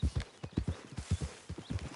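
Horse hooves clip-clop in Red Dead Redemption 2 at a quick, even trot, each footfall close and distinct in a steady rhythm with no talk.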